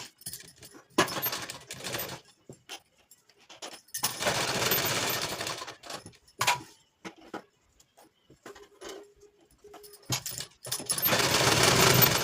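Sewing machine stitching a blouse, re-sewing a seam in troublesome fabric, heard as several bursts of whirring machine noise separated by pauses, with small clicks and handling sounds between runs and no talking.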